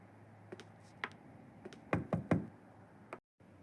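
Knocking on a door in The Sims video game: a few sharp raps in quick clusters, close and fairly quiet, ending in a brief silence.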